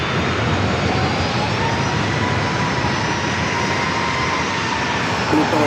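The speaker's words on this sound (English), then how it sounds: "This flight heading to Denver, 737-900ER, United Airlines flight 682" A United Airlines Boeing 737-900ER jet departs San Diego airport for Denver with a loud, steady engine roar and a faint high whine, sustained without a break.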